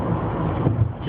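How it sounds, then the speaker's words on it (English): Strong wind in an Arizona dust storm drives blowing dirt, heard as a dense, steady rushing roar with gusty buffeting against the microphone and no speech. "Just dust blowing."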